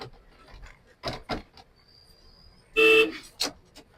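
A short, loud honk of a vehicle horn sounds once amid quiet background noise and a few brief clunks.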